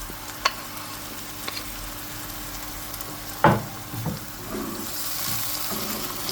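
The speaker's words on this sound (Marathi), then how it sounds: "कांदो जालो भाजून आतां मसालो ॲड करता पळय घाल्लो मसालो सगळो सो बरो आतां भाजून घेवपाचो" Goan masala with onions frying in a pan for a coastal lobster curry, a steady soft sizzle with a few stirring knocks and scrapes, close and fairly quiet with no talking.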